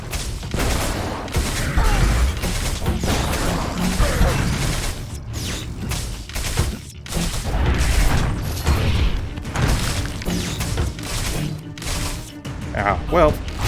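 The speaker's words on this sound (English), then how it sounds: "these things are that pop up and do this explosion thing" Mushroom-like creatures popping up and exploding in the video game Anima Flux, with repeated bursts and booms amid mechanical clanks and rattling game noise, loud and continuous, mixed with a voice talking.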